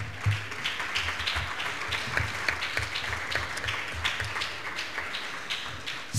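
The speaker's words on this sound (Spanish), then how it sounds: "Aplausos." Sustained applause from an audience at a formal state congress session, steady dense clapping throughout, fairly close and moderately loud with no talk over it.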